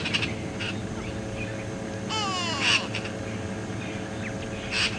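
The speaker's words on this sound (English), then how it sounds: "You can also hear the call of the go away bird, quack, in the distance." A distant go-away-bird gives a nasal, drawn-out call a few times over a constant background of insects and chirping birds, on a morning safari drive at Djuma Game Reserve.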